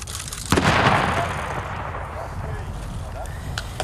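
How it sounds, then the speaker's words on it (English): Controlled detonation of a landmine in Angola: one sharp, heavy blast erupts and then rolls off into a long, fading rumble, with a faint voice around it. "He detonated a mine which had been found a few days ago."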